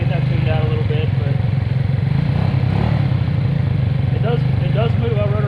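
A 50cc GY6 scooter engine idles roughly at close range, a steady low drone with an uneven, lumpy beat and some mechanical clatter, while a voice talks over it.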